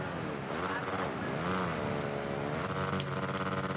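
Supercross motorcycles, including a Husqvarna, racing in a video game, engines whining and revving with rising and falling pitch, mixed under a commentator talking.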